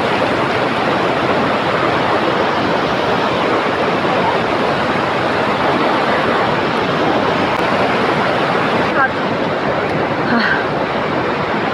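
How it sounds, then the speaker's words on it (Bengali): A mountain river on a trek route rushes loudly and without a break, a dense, steady roar of churning water heard up close. "মানে নদীর এখানে এমন আওয়াজ"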